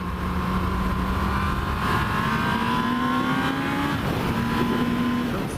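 A Yamaha R1 5JJ sport motorcycle engine under throttle rises steadily in pitch, drops briefly at a shift, then climbs again. The engine note is loud and continuous, heard up close while riding, with no speech.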